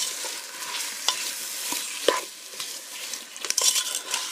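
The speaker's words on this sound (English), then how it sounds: "I have these apples on medium heat." Apples fry on medium heat in a pan, a close, steady bright sizzle with occasional stirring scrapes and soft clicks, alone without talk.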